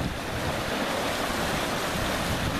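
Ocean surf surges and splashes against rocks at a rocky shoreline fishing spot, a steady, loud, dense wash of water that continues for the whole stretch with some wind noise and no voices.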